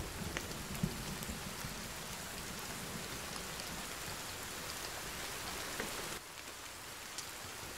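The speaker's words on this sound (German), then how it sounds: "Und es regnet." Steady rain falling and pattering on surfaces in the survival video game Sons of the Forest, a continuous soft hiss that drops slightly near the end, with no talking.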